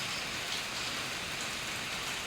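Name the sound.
rain falling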